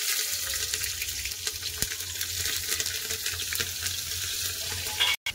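Whole spices (cardamom, cinnamon, star anise, cloves, cumin) with green chilli and bay leaf sizzling in hot tempering oil, a steady loud hiss and crackle that holds throughout.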